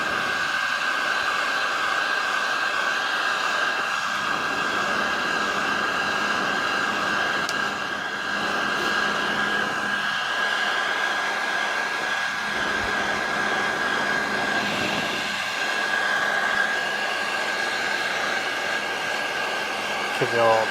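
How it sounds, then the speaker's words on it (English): A heat gun blows hot air during wiring work for a clock install on a 1996–1998 Honda Civic. It gives a loud, steady, close-up roar throughout, with a few faint knocks beneath it. "Let's see if we can one-shot this with the heat gun."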